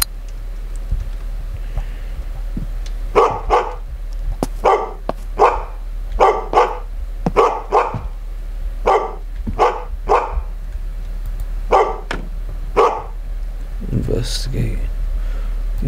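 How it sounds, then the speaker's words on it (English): A dog named Ace barks repeatedly in a steady series of sharp, evenly spaced barks, fairly close, with faint keyboard tapping and some background noise between them. "Ace is barking."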